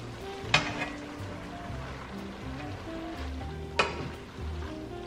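Rice noodles tip into thick sauce in a hot skillet for Thai basil beef noodles, raising a steady close sizzle with soft stirring scrapes and two brief sharper bursts as they land.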